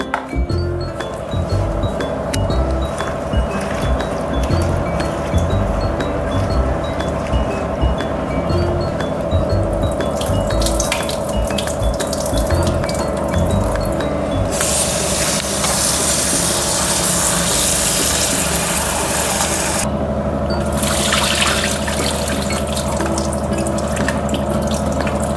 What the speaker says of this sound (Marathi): आता हे 2-3 पाण्याने आपण स्वच्छ धुवून घेऊ.